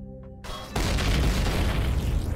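A drone strike explosion in the snowy survival game Empyrion Galactic Survival erupts as a sudden loud boom after a quieter lead-in, then rolls on in a dense, sustained roar of debris and rumble.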